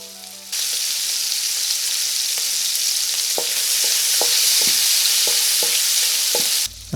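Pork seasoned with salt and pepper frying in hot oil for japchae gives a loud, steady sizzle, punctuated by several sharp clicks of utensils, close and without speech.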